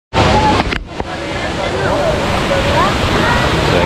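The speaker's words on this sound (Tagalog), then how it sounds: "So guys, dito na sa ilog guys." A mountain river in rural farmland rushes loudly and steadily in a continuous broadband roar, with brief handling bumps at the start and faint bird-like chirps over the water.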